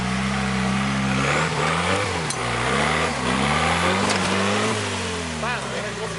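A car engine revs repeatedly, rising and falling in pitch close by, while people shout and talk over it.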